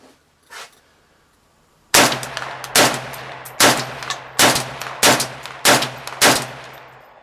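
M72B1 RPK-style machine gun built from an Apex parts kit firing outdoors: about eight loud, sharp reports spaced roughly evenly in a slow, deliberate cadence, each with a ringing tail, after a brief faint knock and near silence.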